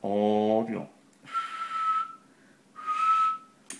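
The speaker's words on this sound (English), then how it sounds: "I will whistle again." A person whistles into the microphone of a Uniden CB radio, two steady held whistle tones heard through the radio's noisy audio after a brief burst of talk.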